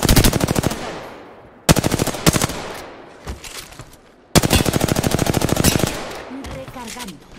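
Bursts of rapid automatic gunfire from an Apex Legends match, loud and close, in several long volleys separated by short pauses with a few single shots between them.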